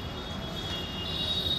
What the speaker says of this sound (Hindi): ट्रेन की आवाज आ रही है।